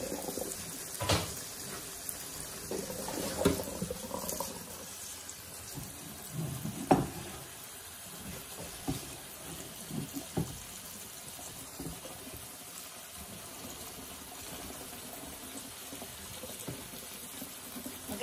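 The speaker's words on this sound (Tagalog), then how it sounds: "Ate pong huhugasan na ang ating pasta ng tubig na malamig." Cold tap water runs steadily over cooked pasta in a kitchen sink, a continuous soft splashing hiss with a few louder spatters, close by and without talk.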